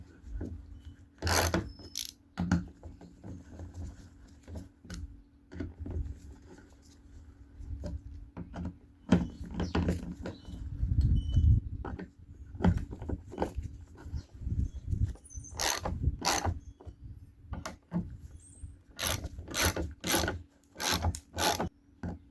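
Ten-millimeter fasteners snugged down by hand with a ratchet on the fuel pump of a 1993 Cadillac Fleetwood, bursts of quick ratcheting clicks and scraping metal rubs separated by pauses, close up, without speech.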